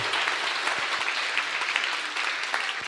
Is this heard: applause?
yes